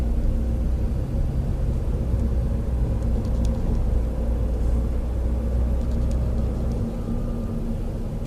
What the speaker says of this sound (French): J'accélère jusqu'à 20 km/h et thermique.